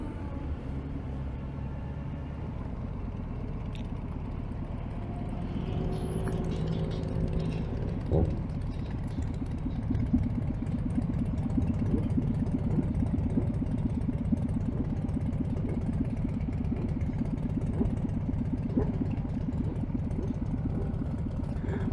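A Honda Grom motorcycle carrying two riders at Bike Week, its small engine rising as it approaches and passes at moderate distance over steady background engine rumble, no talking.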